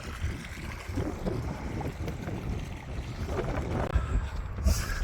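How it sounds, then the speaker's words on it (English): Wind gusting across an open moor and buffeting the microphone, a steady loud rumble for several seconds with a few sharper bursts near the end. "A bit windy. Hope audio's going to come out alright."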